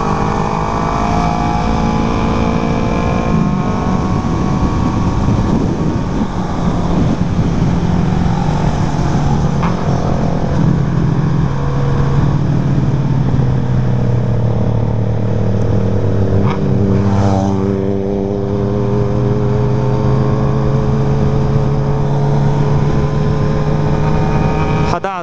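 A loud motorcycle engine runs steadily throughout, its pitch swelling and dropping in revs, close by with no talking.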